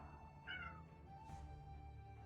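A single short cat meow rises briefly in the medieval village game Medieval Dynasty, heard over a steady low hum of game ambience and music, with no talking.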